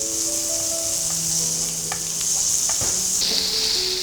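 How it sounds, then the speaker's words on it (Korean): Sliced onions sizzle and crackle steadily in a hot pan while being stirred, with a bright continuous hiss and a few soft scrapes; no voices. "그래서 양파가 투명해질 때까지 향이 나오도록 이렇게 볶아주시면 되세요"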